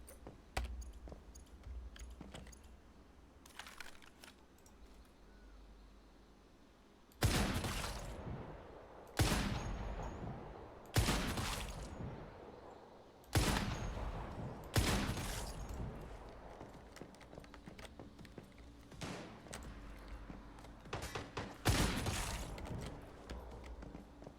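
Gunshots in a shooter video game, a series of loud, sharp single blasts spaced a second or two apart over faint ambient game noise, with no voices.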